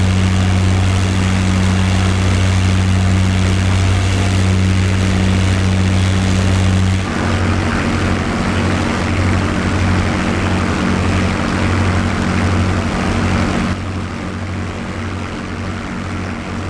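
P-51D Mustang propeller engine in Microsoft Flight Simulator, flying over Norway, a loud steady droning hum that shifts pitch as power changes, continuous and close with no talk.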